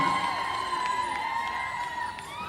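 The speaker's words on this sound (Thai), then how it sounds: "ปรบมือดังๆครับผม" A crowd cheers and applauds at a New Year's Eve celebration show held at a temple in Thailand, with steady, sustained noise and ringing tones running through it.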